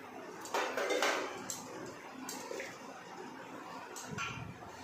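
Chopped vegetables for street-style pav bhaji tumble into a metal pressure cooker with faint, scattered clatters and light knocks against the pot, heard at low level.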